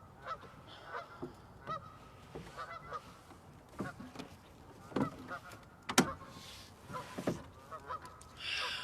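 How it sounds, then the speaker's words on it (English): Geese honk repeatedly from around a lake island, with sharp calls scattered through the stretch and a few louder nearby honks, heard over quiet open-water ambience. "on which we are hearing some geese right now"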